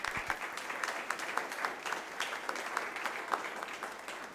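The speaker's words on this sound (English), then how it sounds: "So please give a warm round of applause to Cédric Boutillier and his talk" Conference audience applauding a speaker's Debian talk, a steady, moderately close wash of many hands clapping with scattered sharper claps, continuing evenly without voices.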